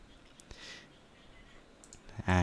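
A computer mouse clicking in the MakeCode web editor, with a few faint isolated clicks, followed by a voice starting at the end.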